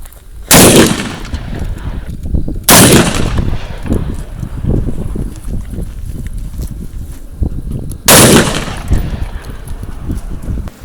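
A custom 6.5 Creedmoor rifle from Modern Warrior fires Hornady 147 grain match ammunition at a car: three loud, sharp shots spaced several seconds apart, each followed by a rumbling outdoor echo and fainter scattered noise.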